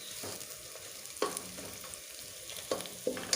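Onions and green chillies fry in a pan over a low to medium flame, giving a soft, steady sizzle. Occasional stirring scrapes rise above it, with a cluster of them near the end.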